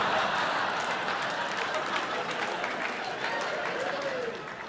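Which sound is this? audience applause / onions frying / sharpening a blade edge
audience applause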